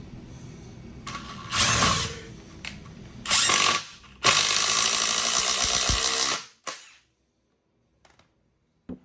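A Ryobi 18V ONE+ HP brushless 1/4-inch impact driver set to mode 3 drives a wide bolt into a pre-drilled hole in wood, cracking it: two short loud bursts of hammering, then a longer sustained run that cuts off abruptly, followed by faint clicks.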